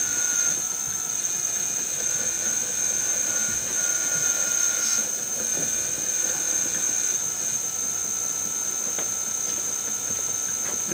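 An old alternator repurposed as a motor drives an electric power steering pump for a DIY electric vehicle. It gives a steady, high-pitched electrical whine with a constant mechanical whir underneath, running evenly and without pause.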